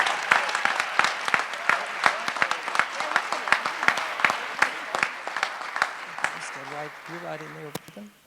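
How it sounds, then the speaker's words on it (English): Audience at the 2017 Kia Outstanding Educator Awards ceremony clapping for the nominees, a lively scattered applause with distinct individual claps that tapers off as a voice comes in at the end. "a big round of applause for the 55 nominees for the Kia Outstanding Educator Award"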